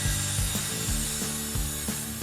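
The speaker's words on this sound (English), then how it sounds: "Clamp the top and base plates together so your measurements and cuts are equal at the top and bottom of the wall." A clamp ratcheting tight on a pair of wooden wall top and base plates gives a quick series of sharp, evenly spaced mechanical clicks, close and clear with no talking.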